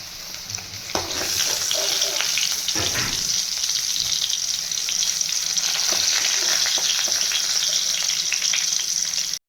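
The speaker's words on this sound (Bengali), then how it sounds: "পনিরগুলো মোটামুটি ভাজা হয়ে গেছে" Loud, steady sizzling of paneer frying in hot oil runs throughout, with occasional soft clinks and stirring noises.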